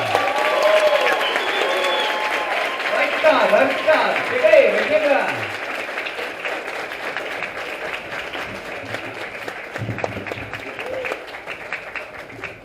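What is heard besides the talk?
audience applause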